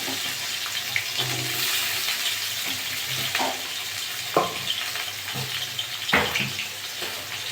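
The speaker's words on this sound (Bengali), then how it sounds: "ওই তেলে আমি আলুগুলো ভেজে নেব।" Potatoes frying in hot oil left over from fried fish, a steady close sizzle with occasional sharper crackles and stirring clatter, no talking.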